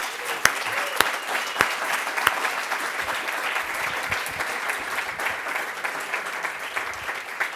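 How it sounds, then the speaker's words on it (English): Applause from the audience at a fall university workshop's final briefings, honoring the presenters and groups: a steady wash of many hands clapping throughout, with a few sharper individual claps standing out near the start. "let's start by giving applause to all of the presenters and all the groups"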